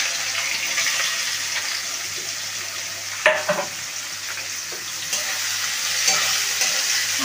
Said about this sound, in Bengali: তার মধ্যে পেঁয়াজটা ভেজে নেব মশলাটা কষানোর জন্য।